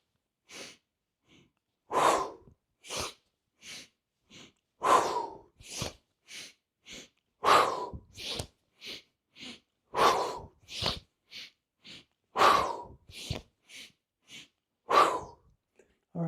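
Rhythmic, forceful breaths in and out during an active breathing exercise with crossing hand movements, roughly a dozen sharp bursts in steady alternation, close and loud with no talking.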